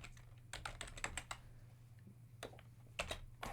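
Quick bursts of keystrokes on a computer keyboard, clicking in uneven clusters over a steady low electrical hum, close and fairly quiet.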